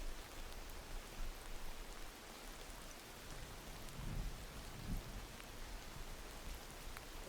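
Steady rain falling in a continuous soft hiss, with a couple of low dull rumbles near the middle, no voices.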